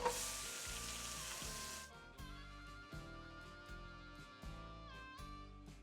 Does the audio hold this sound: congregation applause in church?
no